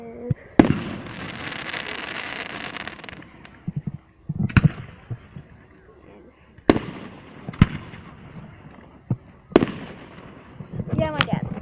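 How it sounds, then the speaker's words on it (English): Canada Day fireworks burst outdoors in a series of sharp booming bangs spaced a few seconds apart, some trailed by crackling, while people chat nearby between explosions. "I just went ahead so you guys can see the fireworks."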